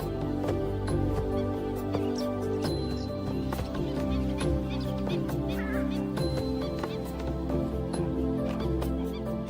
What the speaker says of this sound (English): purple swamp hen, also called the sultana bird, famed for its very loud, explosive call